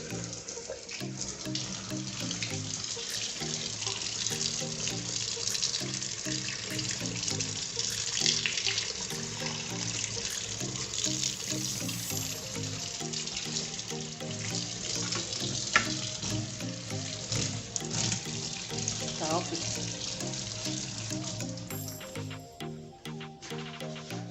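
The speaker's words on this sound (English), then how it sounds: "Jeff, please on the tap." A kitchen tap runs steadily for a long stretch while fish is rinsed before frying. The water gushes and splashes into a sink, close and fairly loud, with small clinks and shifts in the flow.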